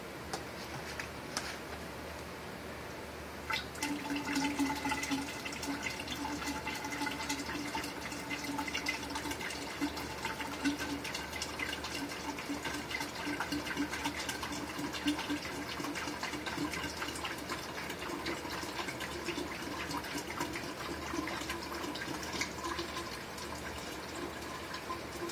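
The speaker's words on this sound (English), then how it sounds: "So I'm going to put more water." Water is poured steadily into a biogas tank at a college, with a continuous gushing, filling sound and light ticking over a long stretch.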